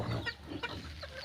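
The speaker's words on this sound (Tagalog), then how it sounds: "Ayan o, daming manok." Chickens on a farm clucking in short, close bursts, several quick clucks overlapping with faint background noise.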